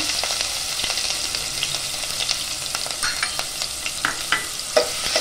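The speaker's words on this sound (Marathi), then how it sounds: "त्यात आपण तेजपत्ता टाकून घेऊया आणि बारीक चिरलेला कांदा पण टाकूया." Bay leaf and finely chopped onion sizzle and crackle steadily in hot oil in a traditional Konkan kitchen, with close stirring scrapes and sharp pops rising over the constant fry, and no voices.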